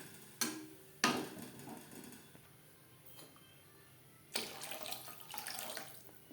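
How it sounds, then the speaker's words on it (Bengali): Water splashes into a pan of spiced bata fish curry masala in a few separate pours, with quiet stretches of faint stirring between them and a longer, louder gush near the end, close and clear with no talking. "দিয়ে দেব জল।"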